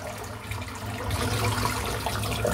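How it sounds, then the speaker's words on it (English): Hot tap water runs steadily into a sink, a soft, continuous splashing rush that grows slightly fuller partway through. "I'm just going to rinse some really hot water over this."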